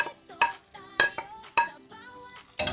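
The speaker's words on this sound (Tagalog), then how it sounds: "huhulog na po natin ang ating green peas at ang ating patatas." Green peas and potatoes tumble into a pan of sizzling ground meat, with several sharp clattering drops and stirring scrapes over a steady background sizzle.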